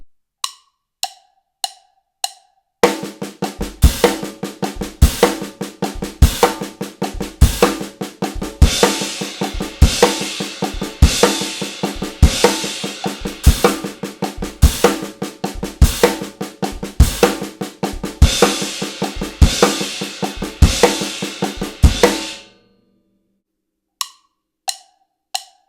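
A drum kit plays a six-stroke roll as triplets in a quick, steady, driving pattern of close, loud hits, with a few isolated strokes before and after the main run.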